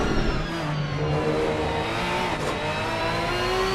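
Porsche and Ferrari race car engines in a racing video game at the Laguna circuit, a steady sustained roar with shifting pitch as the cars run close together, loud and continuous without talk.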